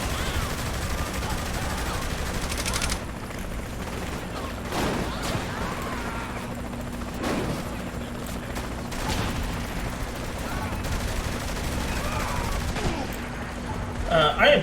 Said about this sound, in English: I am being sniped to death right now